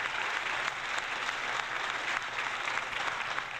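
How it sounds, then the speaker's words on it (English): Sustained applause from a crowd, played as a sound effect: dense, even clapping at steady volume for a few seconds without breaks. "the new applause"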